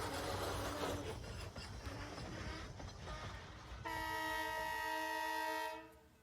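Locomotive 89 on the Reading and Northern sounds a very deep Illinois Central three-chime whistle, a sustained steamboat-like tone that follows several seconds of rumbling train noise and then fades away.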